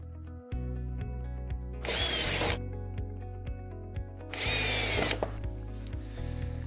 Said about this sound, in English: begin screwing them down.